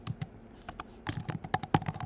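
Someone types on a computer keyboard, quick irregular clicks and taps close up, with short pauses between bursts of keystrokes.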